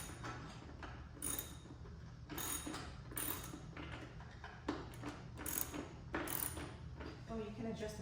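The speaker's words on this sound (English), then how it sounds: "these are all the same size, 17mm adapter here. So I'm gonna just tighten these a little bit at a time." A ratchet with a 17mm adapter tightening bolts on an adjustable weight bench, giving repeated quick clicking bursts in an uneven rhythm, close and fairly quiet.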